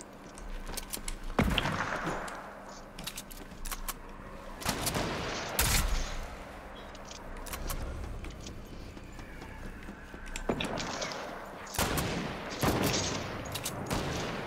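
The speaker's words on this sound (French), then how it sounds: "Putain, je reçois des balles, mon pote." Gunfire in a video game hits the player, arriving as bursts of sharp broadband cracks and volleys spread across the clip, some loud and close, with quieter rumbling gameplay noise in between.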